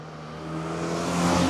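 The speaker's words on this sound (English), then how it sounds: "The engine revs up super quick though" A 2026 Toyota GR86 Yuzu Edition engine revving, a smooth rising tone that climbs steadily in pitch and loudness over a moment, heard from inside the car.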